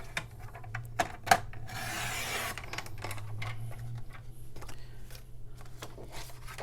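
Pale Papaya cardstock being cut to size for a card base: a steady, faint rasping cut with a brief louder scraping pass early on, plus a few light paper taps and shuffles, close and quiet with no talking.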